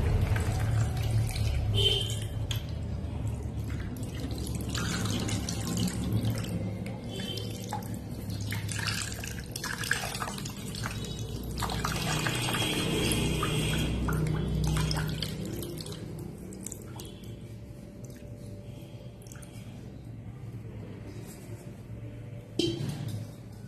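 Water poured over deity idols to bathe them during a home worship ritual, a steady splashing and trickling stream running close by for most of the stretch with faint drips, no talking.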